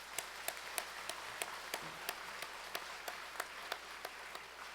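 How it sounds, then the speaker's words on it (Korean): A church congregation at a Sunday worship service claps in a faint, distant, slow rhythm, with soft regular claps spaced about every third of a second over low room noise. "하나님 앞에 영광의 박수 한번"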